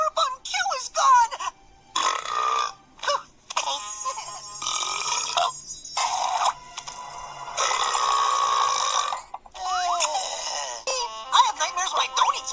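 A person lets out a long series of loud, drawn-out burps, some croaking and moaning, others choppy and broken, following one another closely and close to the listener.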